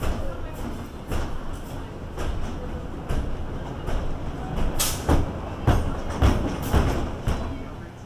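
A fork-themed roller coaster train at Cedar Point rumbles and clatters along its track in steady rhythmic bursts, fairly loud and unbroken, with no voices over it.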